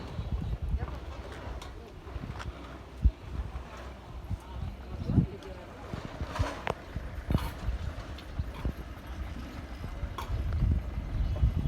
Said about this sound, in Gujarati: બળદી ગાડી